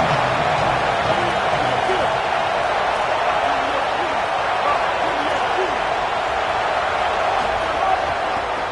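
A college football stadium crowd at the Michigan vs Ohio State rivalry game roars in a loud, steady wash of cheering that fills the whole stretch, with a commentator's voice faintly present beneath.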